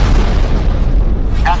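A distant bomb explosion, heard as a loud, deep, rumbling boom that fills the whole moment before fading slightly.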